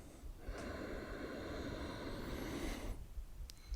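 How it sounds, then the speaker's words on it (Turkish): A single long, deep breath drawn in through the nose, steady and close, lasting a few seconds before fading out. "Şöyle burnumuzdan derin bir nefes alalım."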